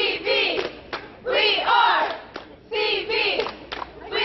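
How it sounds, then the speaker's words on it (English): Central Valley High School cheerleaders shout a rhythmic group cheer in unison, loud chanted phrases in bursts with sharp claps between them, close by and energetic. "now give us your best cheer"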